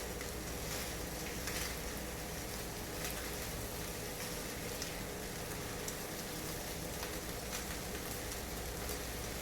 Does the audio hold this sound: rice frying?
yes